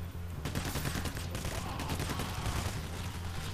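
Dense, continuous automatic gunfire from the video game PayDay: The Heist, a loud sustained fusillade of overlapping rapid shots throughout with no pauses.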